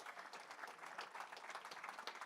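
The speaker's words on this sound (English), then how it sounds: "Give them a round of applause for supporting Kentucky FFA Foundation." Faint, steady applause from a gala audience at a Kentucky FFA Foundation fundraiser, honoring auction buyers; dense clapping heard at a distance with no break.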